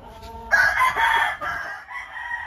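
A young rooster crows close by, a long, strained, hoarse call that breaks off and then resumes briefly, with no talking.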